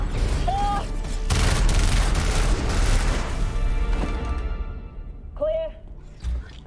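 Sustained gunfire crackles and booms through a tense firefight scene in The Expanse, with continuous rapid shots and rumbling impacts, while voices speak over it and a short electronic chirp sounds near the start and end.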